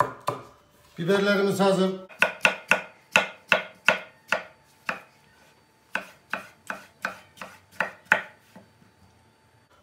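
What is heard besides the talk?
chopping vegetables on a board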